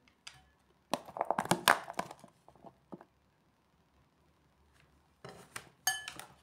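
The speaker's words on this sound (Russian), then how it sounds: "Аккуратно все перемешиваю с майонезом" A spoon mixing a salad of onion, dill and parsley with homemade mayonnaise in a dish, bursts of close clinking and scraping against the bowl separated by quiet pauses.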